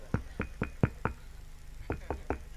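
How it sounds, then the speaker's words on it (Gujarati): Knocking on a door: eight sharp, close raps in two bursts, five quick knocks, a short pause, then three more, with nothing else audible. "ત્યાં એના દરવાજે ટકોરા થયા"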